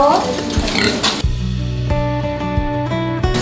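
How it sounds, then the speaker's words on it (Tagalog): Pigs on a Filipino pig farm, a sow and her fast-growing piglets, grunt and snuffle close by in short repeated bursts with broken pulses, under a voice talking in Tagalog. "Ito mga baboy na ito."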